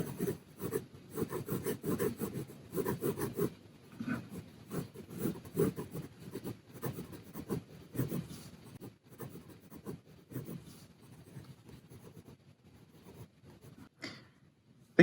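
Pencil scratching and rubbing across paper while roughing in a figure drawing, close and steady with short strokes repeating in uneven bursts, quieter toward the end.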